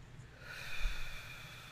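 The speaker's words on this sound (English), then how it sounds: "Take a nice deep breath" A single slow, deep breath drawn in, a soft airy inhale that builds and fades within a second or two, close and quiet.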